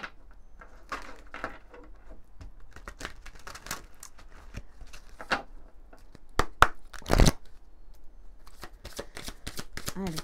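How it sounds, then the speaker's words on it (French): Oracle cards are shuffled by hand in a quiet room, giving a steady run of soft flicks and riffles with a few sharper snaps near the middle. "On va continuer avec l'oracle des êtres de lumière. On va prendre juste quelques cartes."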